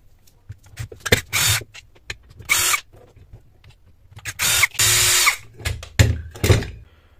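Screws being driven out of a Laxton LX-55 20V brushless cordless mini circular saw with a power driver, using T10 Torx and Phillips screws, in several short whirring bursts separated by handling clicks and pauses, close and fairly loud, no talk.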